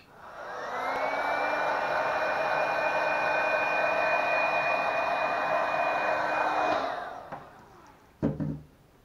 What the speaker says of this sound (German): ich gehe trotzdem nochmal kurz mit dem Heißluftföhn drüber